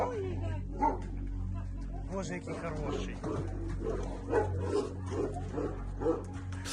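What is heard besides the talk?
dogs barking at animal shelter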